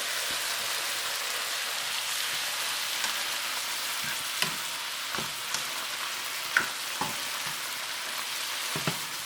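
Peppers frying in oil in a pan give a continuous close sizzle with scattered sharp pops and spits throughout, steady and moderately loud, no talking.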